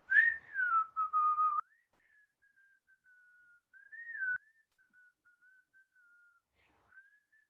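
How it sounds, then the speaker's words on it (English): Someone whistles through rounded lips as a breathing exercise, starting with a clear, louder sustained tone, then trailing into softer, breathy wavering notes with short pauses, close and alone in a quiet room. "It's actually just whistling."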